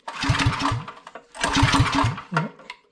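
A drift trike's small gas engine sputters and revs in two rough bursts, then coughs and dies down, close and loud.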